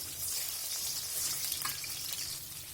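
Eggs are stirred quickly in a frying pan with ridge gourd, a continuous hissing sizzle with soft scraping underneath, close and fairly even throughout.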